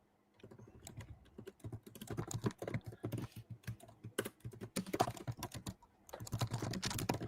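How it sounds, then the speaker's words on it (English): Fast, dense clicking of keys being typed on a computer keyboard, close up, in bursts with short pauses between. "It sounds like you're rapidly typing to apply the fix yourself"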